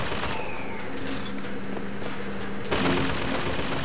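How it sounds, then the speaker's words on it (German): Automated gun turret in BioShock Infinite firing rapid bursts at the same spot, a dense rattle of shots under steady ambient game noise, with a louder blast near the end. "das ballert immer noch auf die gleiche Stelle, das Geschütz."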